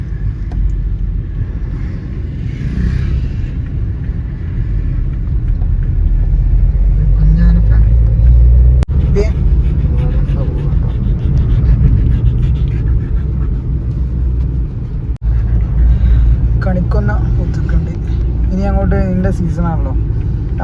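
A safari jeep on a dusty road at the Mudumalai elephant camp passes with a loud, steady engine rumble and wind buffeting, and people talk over it throughout.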